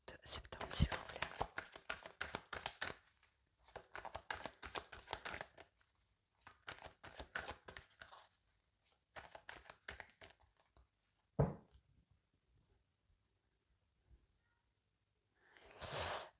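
A tarot card deck being cut by hand, soft crinkling shuffles and card rustles in bursts with pauses, close and quiet, with a voice speaking softly at times.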